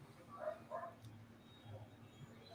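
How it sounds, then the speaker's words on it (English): Dogs barking in the distance around a barn during a barbecue chat, two or three muffled barks early and a softer one later, faint under steady background noise. "I hear them dogs barking."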